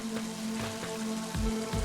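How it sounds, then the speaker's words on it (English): Cold rain falls in the video game Mother 3, a steady pattering hiss with repeated soft droplet taps, heard alone without voices. "Ugh, that's cold rain."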